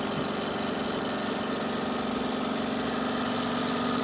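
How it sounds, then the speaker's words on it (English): A 1930s vintage Weeden 670 toy steam engine, freshly rebuilt, runs steadily with a continuous close mechanical chuffing hum and rattle, no voices over it. "here's my 1930s vintage Weeden 670 toy steam engine"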